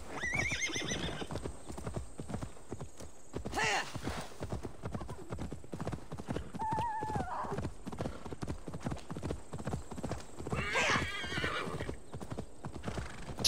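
Horse hooves clip-clopping in the video game Assassin's Creed Valhalla, a steady rapid trot with a couple of whinnies, under someone talking.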